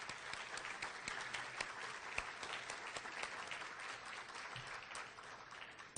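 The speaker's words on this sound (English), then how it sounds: "I don't know if you want to stand up for a round of applause." A room of people at a charity lunch applauds steadily for social services directors, dense clapping that sounds somewhat distant and even throughout.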